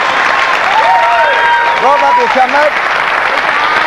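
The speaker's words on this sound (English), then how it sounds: "Round of applause, everybody" Studio audience applause on an Australian football TV variety show in 2005, a steady broadband wash of clapping under a voice speaking over it.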